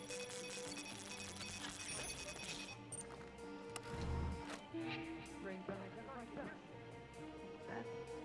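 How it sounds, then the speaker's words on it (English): An alarm blares in the video game Deathloop, its steady repeating electronic tone running the whole time under a busy game soundscape, with someone talking over it. "A false alarm and a real one."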